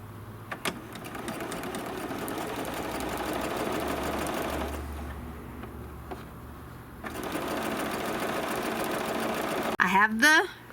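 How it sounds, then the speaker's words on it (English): A sewing machine runs steadily, stitching flange pieces onto a trapunto pillow with a 1/4 inch seam, its close whirring hum pausing briefly midway and resuming, while someone talks over it. "then we'll stitch those with a 1/4 inch seam also"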